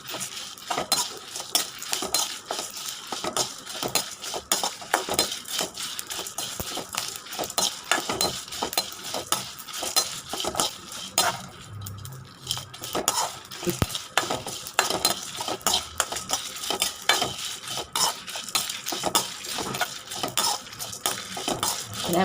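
Spices dry roasting in a pan for sambar powder, stirred briskly: a rapid, continuous run of metallic scraping and clinking from a utensil against the pan, with only a faint sizzle beneath.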